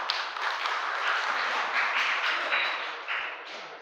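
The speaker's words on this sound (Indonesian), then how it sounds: "Tepuk tangan untuk beliau berdua" Applause from a crowd at an evening religious gathering in a mosque, a dense continuous clatter of clapping holding steady for several seconds.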